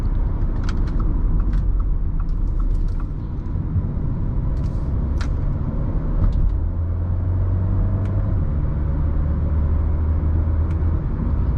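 Engine of a 2018 Audi A4 S-Line heard from inside while driving, a steady low rumble with quick rev changes as gears are shifted by paddle shifters, along with faint clicks and no talking.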